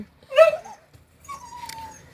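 A puppy gives a sharp, loud whimpering yelp, then a thin drawn-out whine follows a moment later, close by and alone.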